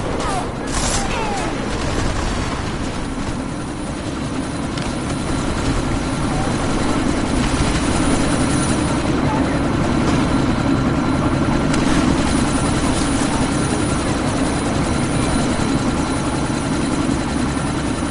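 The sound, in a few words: helicopter taking off in the video game Deus Ex: Mankind Divided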